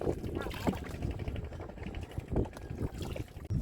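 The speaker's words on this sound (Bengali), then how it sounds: "আমাদের পাশ দিয়ে একটু আগে একটি ট্রলার গিয়েছে, তো এখনও শব্দটি আমরা শুনতে পাচ্ছি।" A steady low engine drone from a passing trawler boat on a river near Mehendiganj, Barishal, mid-distance, with wind and water noise around it and voices talking intermittently over it.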